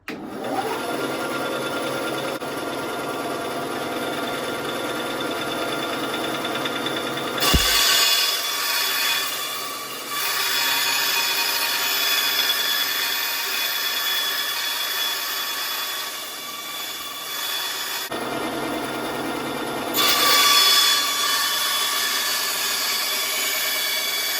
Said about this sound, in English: I already cut a piece off and started making one using the bandsaw and my belt sander.